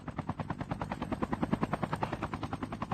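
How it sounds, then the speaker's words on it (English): Helicopter in the Call of Duty Mobile battle royale mode, with fast rhythmic rotor thumping, loud and close, running steadily throughout without speech. "He has a helicopter right on top of CBK."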